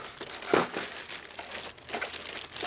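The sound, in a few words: crinkling plastic bags being handled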